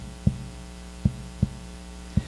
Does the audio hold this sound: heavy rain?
no